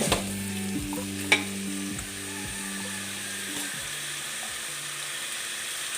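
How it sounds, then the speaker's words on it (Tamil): Tomatoes with salt and turmeric sizzle steadily in a hot pan while a utensil stirs and scrapes, with a couple of sharp clinks early on. "தக்காளி நல்லா வதக்கிறதுக்கு கொஞ்சம் உப்பும் மஞ்சத்தூளும் போட்டு வதக்கணும்"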